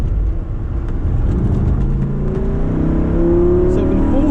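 Lamborghini Gallardo LP560-4 accelerating hard out of a chicane on a track, a loud continuous engine roar with rising tone as revs climb through the gears, heard from close by with a voice talking over it.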